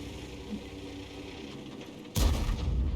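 A tank cannon fires once in a tank battle video game, a sudden loud boom that cuts through low engine rumble and sustains into a rolling blast.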